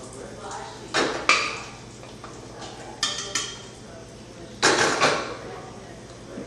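Metal pan holding bacon fat clatters on a stovetop in a few sharp scrapes and knocks, with quiet kitchen background between the bursts.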